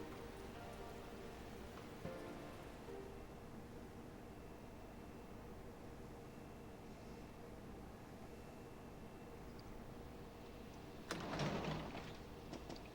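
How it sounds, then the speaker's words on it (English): Steady rain in the Persona 4 video game falls as a soft, constant hiss, faint and even, with a brief louder clatter near the end. "Good thing it looks like the rain will keep up all night."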